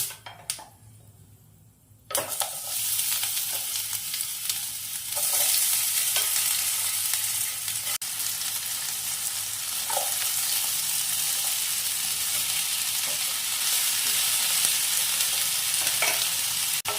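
Hog plums tipped into hot oil tempered with dried red chillies for a chutney, a sudden loud burst of sizzling that then holds as a steady, dense frying hiss with occasional faint utensil taps.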